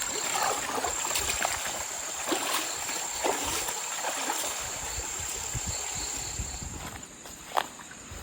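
Steady rushing of a river flowing at night, continuous and close, with a few faint splashes and scattered footstep-like knocks.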